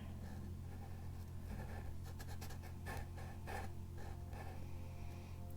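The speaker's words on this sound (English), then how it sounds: "I'm gonna add a little triangle eye here and another over here." A black marker draws small triangle eyes on paper for a Halloween die-cut craft, producing faint, close scratchy strokes in short bursts over a low background hum.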